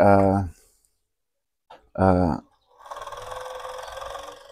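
A lock stitch sewing machine runs a short straight-stitch bar tack to secure drawstring bag edges, giving a steady whirring burst over the last second and a half after two brief spoken phrases.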